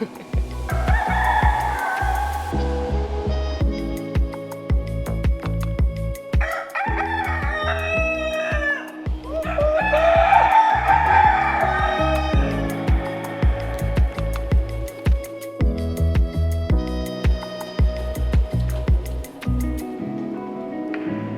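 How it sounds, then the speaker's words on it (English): Chickens cluck and squawk continuously close by near the Batu Caves in Kuala Lumpur, with roosters crowing repeatedly over the flock in a busy, lively chorus. "there are a few chickens hiding in the corner there"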